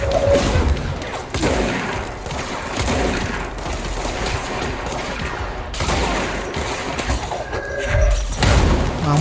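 Explosions and gunfire in the video game Control as a teammate's bomb goes off amid heavy combat: a continuous barrage of booms and shots, loud and close, with bursts near the start, middle and end.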